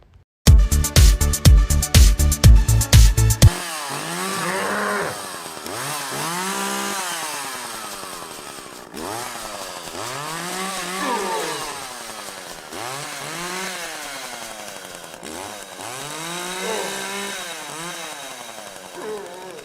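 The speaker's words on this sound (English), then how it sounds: "I love the moving chainsaw" A loud, rough chainsaw motor from an animated Halloween prop buzzes in rapid pulses for a few seconds, then cuts off and gives way to a long stretch of voice-like tones.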